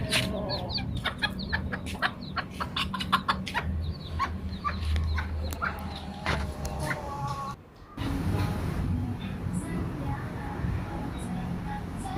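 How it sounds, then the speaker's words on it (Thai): Chickens cluck and chatter in a farm coop at a rural Thai restaurant, repeated close clucks over a busy background, with someone talking intermittently among the birds. "ด้านหลังนี้ก็จะมีเลี้ยงไก่นะครับ"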